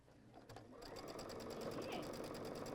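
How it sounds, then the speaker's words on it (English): A sewing machine stitches quilt fabric, starting with a few separate clicks and then running into a steady, rapid mechanical rattle at close range. "And now you sew."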